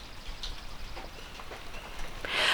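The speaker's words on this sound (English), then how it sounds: "The rain you can sort of hear it still." Rain falls in the wilderness of British Columbia as a faint, steady patter of drops, quiet and continuous with no talking, swelling slightly at the end.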